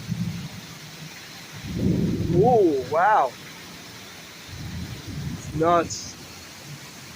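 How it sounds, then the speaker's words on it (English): A thunderstorm with heavy rain in New York: a steady hiss of rainfall with low rumbles rolling underneath, while people exclaim over it. "this is a thunderstorm."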